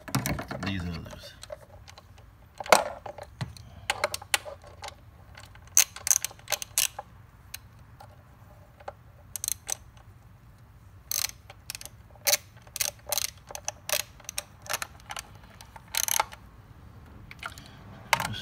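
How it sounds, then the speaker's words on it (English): A socket ratchet snugs down spark plugs on a 2007-2011 Honda CR-V, giving scattered bursts of sharp, close clicking in short runs with pauses between, over a faint steady hum. "So now we have our regular socket. We're just gonna finish tightening up"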